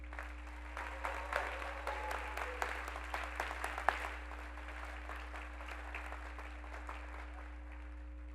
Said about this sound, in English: Can we please give everyone a round of applause?